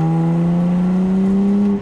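A 2023 BMW M2 with a front-mounted engine, rear-wheel drive and six-speed manual holds a loud, steady, droning engine note for a brief stretch at close range.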